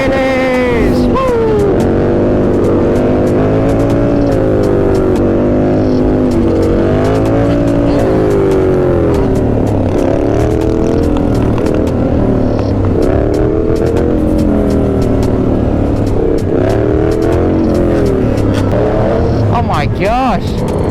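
Motorbike engines rev loudly and continuously on a street ride with wheelies, their pitch rising and falling in repeated waves under close, wind-buffeted recording, with people talking and shouting over the engines.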